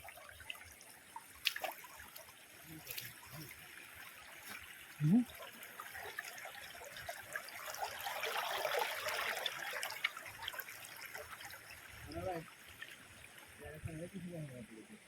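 Water flows in a stream beside a field in the Konkan countryside, a soft broadband rush that swells in the middle, with people talking over it throughout.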